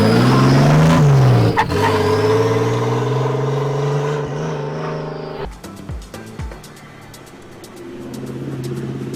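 A drift car's engine revs hard and holds high while the car spins on a Klaipėda track, loud and close, then drops into sputtering pops and bangs before it builds again.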